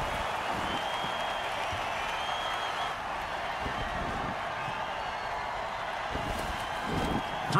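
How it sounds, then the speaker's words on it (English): Steady crowd roar from spectators at a football game, loud and continuous throughout. It swells slightly near the end, and no voices talk over it. "Crowd's loving it."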